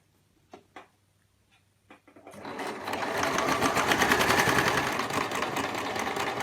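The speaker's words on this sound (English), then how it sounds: "we are ready to continue to sew on down with the remainder of that edging" A sewing machine stitches bias binding edging with a steady, loud mechanical whir after a few brief clicks and pauses, running continuously to the end.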